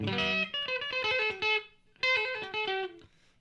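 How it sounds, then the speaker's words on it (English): A Reville MV (Maverick) electric guitar with P90 pickups, played through a Joyo California Sound pedal with the knobs near noon, rings out two short phrases of picked notes, clean and moderately loud with a brief pause between them. "just playing through a Joyo California sound, again with, like the last video, pretty much all the knobs at 12 o'clock"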